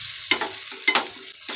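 Baingan bharta, a mashed eggplant dish, sizzles in a hot pan over a gas flame while a spoon stirs it in three or four quick scraping strokes, each with a bright crackling sizzle.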